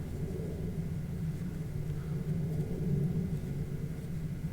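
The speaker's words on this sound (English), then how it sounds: "Hear a jet going overhead." A jet aircraft passes overhead, a steady low broadband rumble that swells slightly toward the middle and stays continuous and fairly distant throughout, with no voices.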